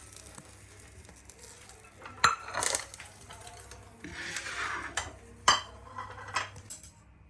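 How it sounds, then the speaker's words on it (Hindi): A plate lifted from a kitchen counter while making an egg, cheese and chapati breakfast, a few sharp ceramic clinks and scrapes scattered over several seconds against quiet room noise, with no talk. "प्लेट को उठाते हैं।"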